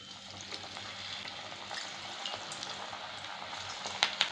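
Pakoda batter drops into hot oil and fries with a steady, soft sizzle and crackle, a couple of sharper pops near the end, no talking.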